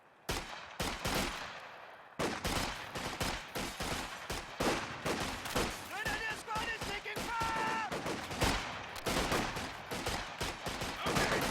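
Dense rapid gunfire rattles through a competitive match of a World War II strategy game, with an MG42 machine gun team firing bursts among other shots, and a commentator talking over the battle.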